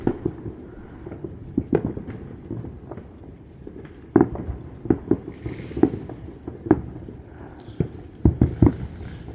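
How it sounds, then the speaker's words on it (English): Distant fireworks being let off during a rainy summer evening, irregular muffled booms and pops scattered over a soft steady patter of rain, some bursts coming in quick clusters. "they were letting off fireworks"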